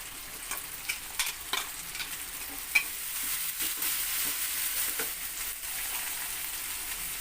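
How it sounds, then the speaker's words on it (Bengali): Dried fish paste frying with chillies and chilli powder in a pan, a steady close sizzle with a few stirring clinks and scrapes and no voices. "এই শুক্তি মাছের পেস্টটা এখানে আমি দিয়ে দিচ্ছি"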